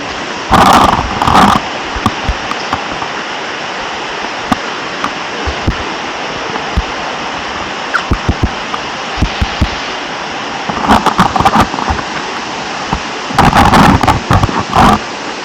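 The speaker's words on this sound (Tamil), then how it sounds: "அப்படியே நீர்வீழ்ச்சி வந்தாச்சு பயங்கரமாக இருக்க போகுது" Jalagampari waterfall in the Yelagiri hills pours with a continuous loud roaring rush of water, with a few brief louder bursts of movement or handling noise near the microphone.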